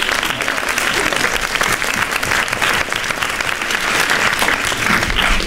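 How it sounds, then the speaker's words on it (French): Dense audience applause at a film event in Lausanne, loud and continuous clapping from a large crowd filling the whole stretch without a break. "On peut l'applaudir"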